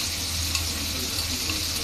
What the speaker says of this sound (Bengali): সাথে মুরগির মাংসটা একটু ভেজে নিব আগে